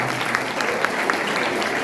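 Audience at a spiritual talk session clapping steadily for a young girl, a dense even patter of applause lasting throughout, moderately loud with no voices on top.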